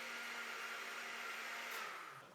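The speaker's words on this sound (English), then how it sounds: "How does it sound with the blender on?" A blender runs with a steady, whirring hiss and a faint low hum, constant throughout and easing off slightly at the end, with no talking.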